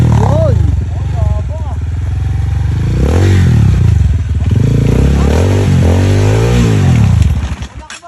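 A motorcycle being ridden drones loudly and close, its engine rising and falling with revs and gear changes, with some clatter underneath and people talking over it.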